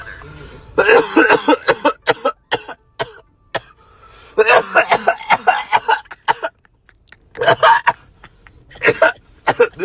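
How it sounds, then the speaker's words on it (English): Loud, harsh coughing fits after smoking, bursting out in repeated clusters of hacking coughs close to the microphone, with some voices talking around them. "I heard that cough loud as fuck."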